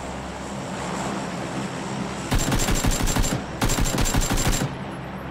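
Two long bursts of rapid automatic gunfire in PUBG, loud and fairly close, separated by a short pause over a steady windy outdoor ambience.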